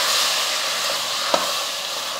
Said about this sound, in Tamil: அரிசி போட்டதுமே லைட்டாக கிளறி விட்டுருவோம்